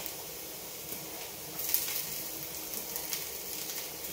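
Squeezed ginger frying in a pan for an Onam feast dish, a soft, steady sizzle at low level with a slightly brighter burst of spitting midway.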